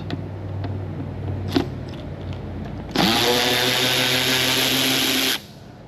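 A power tool unscrews T25 Torx bolts from a vehicle roof rack, with a few light clicks and handling knocks followed by a loud, steady whining run of about two and a half seconds that stops abruptly.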